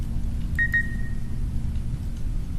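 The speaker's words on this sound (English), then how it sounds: "someone needs to put a battery in the fire alarm" A smoke alarm chirps for a low battery, giving two quick high beeps close together, the second trailing off, over a steady low hum in a quiet room.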